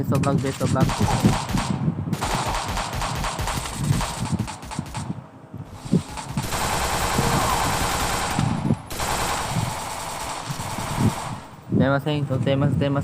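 Bursts of automatic gunfire from the Free Fire MAX battle royale game rattle loudly in long sustained volleys, broken by short pauses, with a player's voice talking over the shooting.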